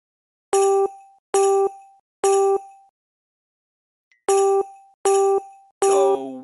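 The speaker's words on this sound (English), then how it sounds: "Let's play a Christmas song for Tag. How about Jingle Bells" Jingle Bells played note by note as bright, bell-like chimes in the Hey Duggee Christmas app game, three evenly spaced tones, a pause, then three more, each ringing out cleanly without speech.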